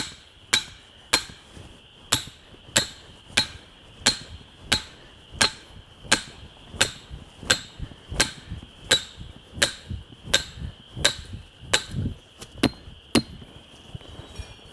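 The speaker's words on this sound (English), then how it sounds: "we're going to get our stake pounded in here" A stake is hammered into the ground with about twenty evenly spaced sharp metallic strikes, steady and close, each ringing briefly before the next blow.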